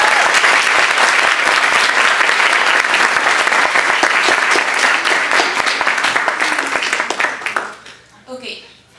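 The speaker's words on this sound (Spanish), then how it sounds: "Un aplauso" An audience at a book presentation gives the author a loud, sustained round of applause, a thick wash of many hands clapping that fades out over the last second as a voice begins.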